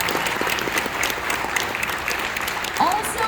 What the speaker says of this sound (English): So how about giving Jillian a round of applause?